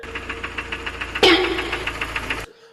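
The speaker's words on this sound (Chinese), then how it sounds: "如果你的发动机产生了哒哒哒异响，说明你的活塞已经被拉伤了。" A Kia or Hyundai 2.0 engine with scored pistons runs with a steady, rapid ticking knock that repeats evenly under a mechanical hum, rising briefly in a louder burst before the running sound cuts off near the end.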